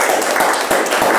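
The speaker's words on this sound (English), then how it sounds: "Another round of applause" Audience applause after a televised town-hall conversation, a dense, steady wash of many hands clapping close and loud without pause.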